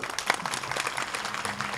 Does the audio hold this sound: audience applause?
yes